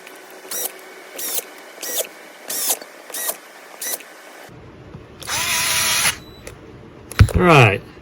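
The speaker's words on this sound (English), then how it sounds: "I'm going to put all my screws back in" A power drill drives screws back into the manifold of an outboard fuel pump on a 5.5 HP Johnson/Evinrude, with a series of short, evenly spaced whirring bursts followed by a longer run and a final ratcheting spin-down.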